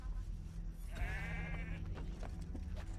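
Sheep bleating inside the Assassin's Creed 3 game world, one wavering, quavering bleat of about a second rising clearly over a steady ambient background, close and fairly loud.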